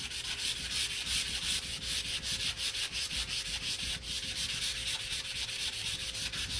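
Wood being sanded by hand with regular sandpaper: a close, steady, rhythmic scratching rub with repeated back-and-forth strokes throughout.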